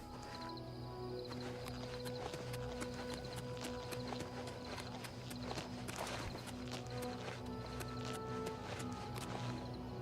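Rhythmic hoof clip-clop of a horse moving along in the video game Oblivion Remastered, steady and moderately close, with no talk over it.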